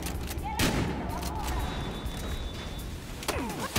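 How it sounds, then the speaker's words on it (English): Shotgun blasts in the video game Battlefield Hardline on PS4, loud booming shots over continuous in-game combat noise, with a voice briefly heard in the mix. "Shotgun!"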